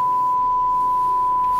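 A steady pure censor bleep tone runs unbroken throughout, loud and constant, with faint muffled voice underneath.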